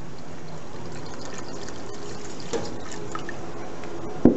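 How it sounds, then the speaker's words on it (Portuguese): Water pours steadily into chicken broth in a cooking pot, a continuous soft splashing trickle heard close up, ending with a brief clunk. "E aqui a gente vai acrescentar mais água."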